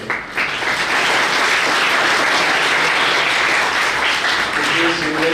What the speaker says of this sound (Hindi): बच्चे सभी लोग ताली बजा के अभिनंदन करें।